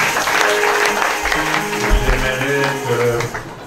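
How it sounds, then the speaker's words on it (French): A church congregation claps together at a Sunday school service, a dense, steady burst of applause with scattered voices and some low musical tones mixed underneath. "Applaudissons le Seigneur."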